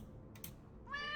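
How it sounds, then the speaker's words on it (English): A cat in the haunted-house video game Deck of Haunts gives one short, faint, rising meow at the end, after a couple of soft clicks. "I've also just noticed we got a cat."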